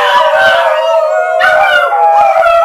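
Dogs howl and bark in a children's song about dogs on a bus, a loud, sustained chorus of overlapping howls with yips, steady for under three seconds.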